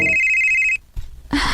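A telephone rings with an incoming call, a steady electronic ring tone holding for most of a second before cutting off, followed by a short quiet gap and then a burst of loud studio sound in a radio drama.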